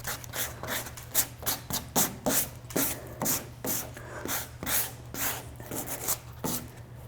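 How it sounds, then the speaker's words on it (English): Sandpaper scrubs back and forth over a chalk-painted, wax-resisted wooden piece to distress the finish, making a quick, rhythmic run of close rasping strokes over a low steady hum. "I sanded a little bit too much."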